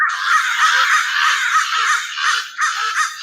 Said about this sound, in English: How are these birds louder than children?